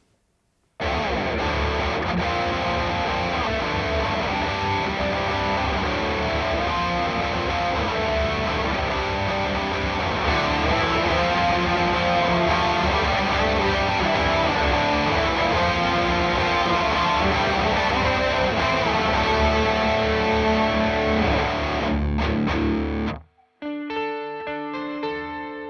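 Distorted electric guitar played through an open-back 1x12 Celestion Zilla speaker cabinet, loud sustained riffing for over twenty seconds that stops abruptly, followed by a few brief ringing notes.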